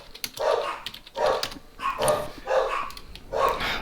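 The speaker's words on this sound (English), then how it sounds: "but oh my god, they're just barking." Several dogs bark in a steady run of about five or six sharp barks, each roughly half a second apart, close by and loud, with faint clicking in the background.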